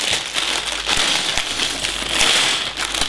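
Thin plastic parts bag from a LEGO Ghostbusters Headquarters set crinkling and tearing open, a steady close, dry rustle with a few sharp crackles throughout.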